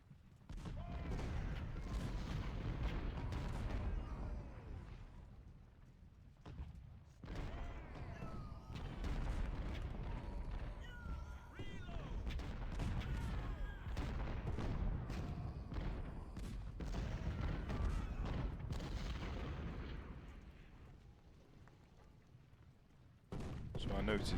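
Cannon and artillery fire from a Civil War battle game at the Battle of Fredericksburg, dense, rolling booms and thuds layered almost continuously, loud and busy, with a voice talking over parts of it.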